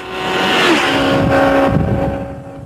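A Yamaha VMAX motorcycle engine runs loud and close on a test track, holding a steady droning tone that dips and bends partway through, then eases back over a couple of seconds with no talking.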